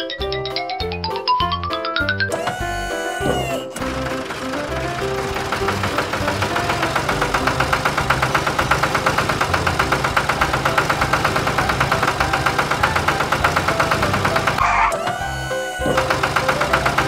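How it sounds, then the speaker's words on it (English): A steady tractor engine runs for the whole stretch with a rhythmic chugging knock, loud and close, with a few brief mechanical tones near the start. "Tractor."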